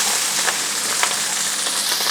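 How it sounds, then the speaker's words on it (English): Rice crackles steadily in hot oil in a pan, a dense, continuous sizzle with a few sharper pops standing out, close and fairly loud with no talking. "it's quite noisy because it's hot and the rice touches it, it does make that crackling noise"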